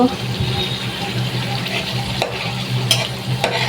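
Onion paste frying in oil for a Bengali egg curry, a close sizzle broken by a few scraping strokes of a spoon stirring the pan.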